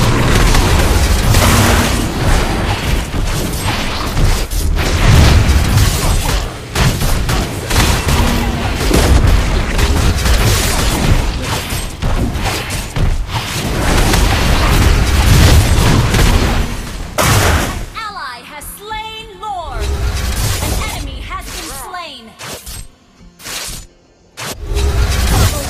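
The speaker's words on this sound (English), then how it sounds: "Our turret has been destroyed." A turret is destroyed by explosions in a 5v5 custom video game match: loud, dense booms and blasts roll almost continuously, then thin into sparser hits with short silent gaps near the end.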